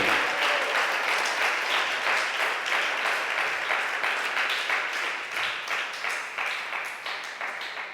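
A church congregation claps together during a service, a full, steady wave of applause from many people that stays loud and continuous, easing slightly toward the end.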